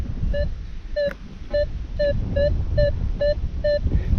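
A metal detector gives a low-ringing tone over a shotgun shell, sounding as a string of about eight short, evenly spaced beeps. The beeps carry clear harmonics over rustling ground noise, and no one talks.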